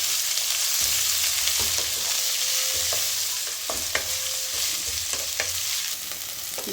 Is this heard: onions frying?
yes